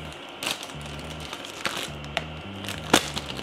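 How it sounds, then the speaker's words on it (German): Small plastic zip bags are pulled and forced open by hand, giving sharp crinkling and snapping crackles in a few distinct bursts over a low mechanical hum, with no talking. "habe ich mir solche Beutelchen genommen und habe die einfach mit Gewalt geöffnet"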